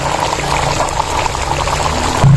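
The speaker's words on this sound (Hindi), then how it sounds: "तो यहाँ पर हमने शामिल करना है लेमन।" Lemon juice poured into beef karahi (tomato and meat curry) in a pan; a short, steady liquid pour close up, with a brief louder thud at the end and no speech.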